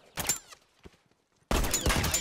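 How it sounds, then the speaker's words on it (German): Sniper fire in The Last of Us, two sharp, loud rifle cracks, one at the start and a heavier one after a quiet gap, each with a brief ringing tail. "Vorsicht, Scharfschütze!"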